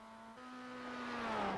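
A red Mazda MX5 race car at the Nürburgring Nordschleife, its engine note droning steadily and rising slightly in loudness as it draws nearer, fairly faint and alone.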